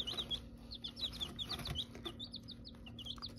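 Chicks in a coop peep in quick, high, repeated chirps that run steadily throughout over a low background hum.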